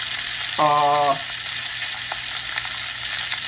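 Pork chop seasoned with garlic salt and fresh ground pepper cooking on a grill, giving a steady low sizzle throughout, with a brief tonal squeak or whine partway through.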